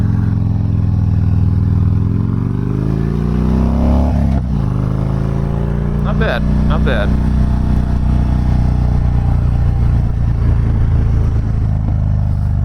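A Harley-Davidson Dyna Fat Bob, custom-built, rumbles loud and close as it idles and pulls away, the low engine note swelling under brief talk from the rider.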